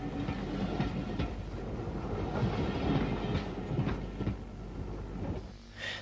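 Narrow gauge compound tank locomotive train on the County Antrim lines near Ballymoney in 1950, a steady rumbling roll with rhythmic wheel clicks and clanks, fairly close and continuous.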